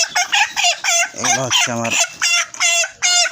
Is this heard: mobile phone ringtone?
no